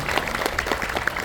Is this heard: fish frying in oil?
no